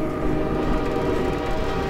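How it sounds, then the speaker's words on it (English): A train in the video game Synergy rumbles steadily with a dense, continuous low roar, close and loud throughout with no voices. "That's just a train."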